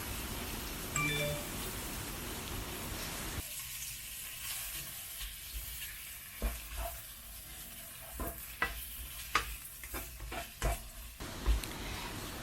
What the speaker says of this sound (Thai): เราผัดเครื่องแกงได้ที่แล้ว เราก็ใส่หมูสับลงไปค่ะ